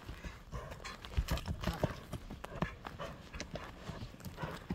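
Horse hooves clip-clop at a walking pace on firm ground, with a steady irregular rhythm of soft thuds close by, fairly quiet and with no voices.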